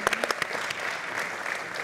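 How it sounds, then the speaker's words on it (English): Applause for a team member at a Fernandomania @ 40 celebration of Dodgers pitcher Fernando Valenzuela, a few sharp claps at first and then a steady, moderately distant wash of clapping from the audience. "I think he deserves a round of applause"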